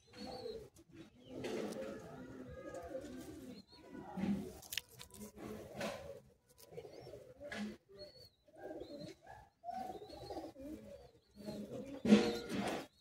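Madrasi high-flying pigeons coo in a loft in Howrah, Kolkata, giving repeated soft, throaty bursts at close range with brief pauses between them, plus a few chirps and light rustling.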